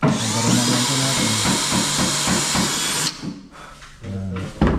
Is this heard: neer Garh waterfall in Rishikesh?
no